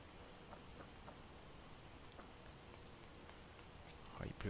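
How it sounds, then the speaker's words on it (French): Steady heavy rain in a Project Zomboid video game hisses across the whole clip, with scattered drops standing out and a slight swell at the end. "Oh, il pleut à verse."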